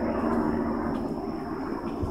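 A helicopter flies overhead, a steady rumbling engine drone holding at a moderate, fairly distant level throughout with no one speaking.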